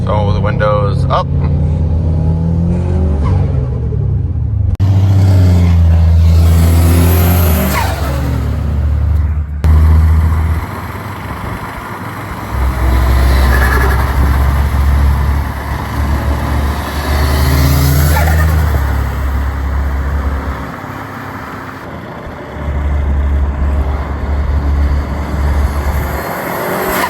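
A deep, droning exhaust rumble from a modded 2005 Subaru Legacy GT, heard in the cabin with the windows up. It rises and falls in several surges and sits under someone talking almost throughout.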